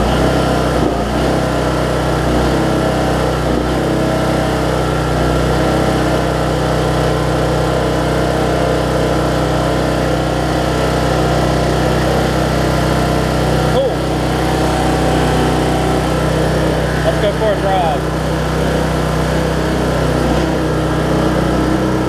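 A Weed Eater AYP riding mower's small engine runs continuously at a steady drone, close by, with a faint rattle layered over the even hum.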